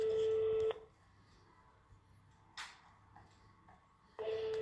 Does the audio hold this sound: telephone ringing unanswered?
yes